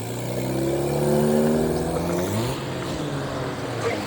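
A Porsche accelerates hard at a cars and coffee meet, the engine revving up loudly and close with rising pitch before easing off as it pulls away.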